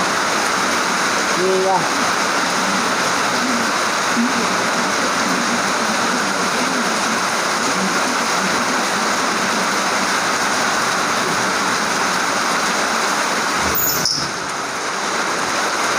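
Heavy rain pours steadily at night as a dense, continuous broadband hiss, with a brief voice speaking near the start and a faint passing sound near the end.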